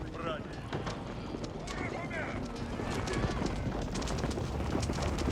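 A couple of Rus horse archers gallop in Age of Empires 4, their hoofbeats a busy clip-clop that builds in loudness, heard under continuous game sound effects and voices.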